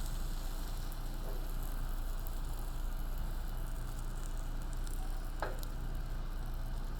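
Beaten egg for a mushroom Swiss omelet sizzles steadily in a hot pan, a constant close hiss with an occasional faint tick or scrape of a utensil.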